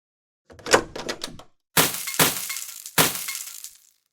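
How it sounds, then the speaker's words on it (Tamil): Clay pots stacked behind a door tumble and shatter as a story sound effect: a short rattling clatter, then three loud, separate breaking crashes, close and alone, with no voices. "கதவின் பின்புறம் அடுக்கி வைத்திருந்த பானைகள் கீழே விழுந்து உடைந்தன"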